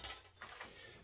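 Screw being driven back in on a CPI Oliver two-stroke scooter during engine teardown, heard as a short close mechanical ratcheting click followed by a few faint metallic turns, with no talk.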